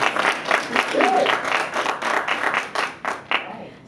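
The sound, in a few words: audience applause for panelist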